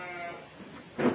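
Garut sheep in a pen bleating, a brief, fairly loud cry near the end of the clip over faint barn background noise.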